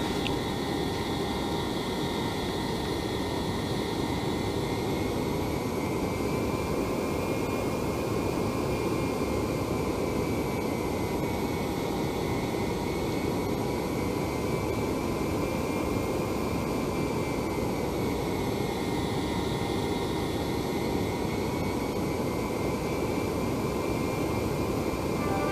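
Steady jet engine whine and broadband roar from a Citation X taxiing in a flight simulator, continuous and even throughout with no voices.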